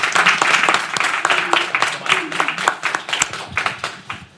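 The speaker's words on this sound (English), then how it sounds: "join me in a round of applause to our speakers" Conference audience claps in a round of applause for the speakers at a security and defense event; individual claps are distinct and close, thinning out toward the end.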